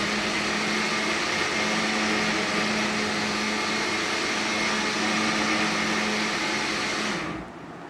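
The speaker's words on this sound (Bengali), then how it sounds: "এটা ব্লেন্ডার করে নিয়ে আসি" A kitchen blender whirring steadily as it blends lychee juice with cold water, a loud continuous motor whine that cuts off abruptly near the end.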